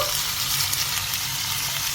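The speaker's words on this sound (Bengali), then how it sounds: "এখন এটাকে ভালো করে ভেজে নিতে হবে।" Fish head, onion, garlic and green chillies fry in a pan with a loud, steady sizzle and the scrape of stirring.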